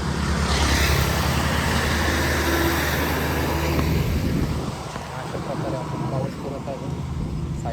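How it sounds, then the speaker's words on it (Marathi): A vehicle passes on a narrow road by a bridge lined with trees, on a hot morning during a long-distance cycling trip; a loud, steady rushing roar holds for about four seconds, then drops away into quieter road noise. "गाडी आहे"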